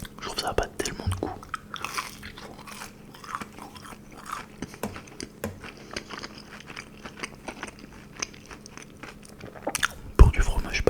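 Breaded mozzarella sticks from Buffalo Grill are bitten and chewed up close, with crisp crunchy bites and moist chewing spread over the stretch, and a voice talks quietly in places.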